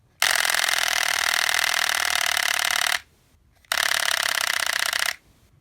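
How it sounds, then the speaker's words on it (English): The plastic gun mechanism of a wind-up Evangelion Unit-01 figure fires in a rapid, buzzing rattle, two loud bursts of about three seconds and one and a half seconds separated by a short silence, with no talk. "even the sound of the plastic mechanism sounds like a machine gun of sorts"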